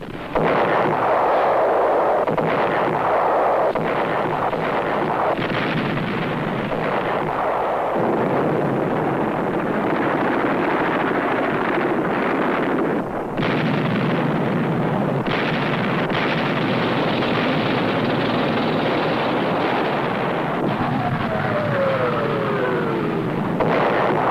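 Artillery fire in archival war footage of the Vietnamese siege of French positions, a loud, continuous rumble of guns and explosions filling the whole stretch without speech.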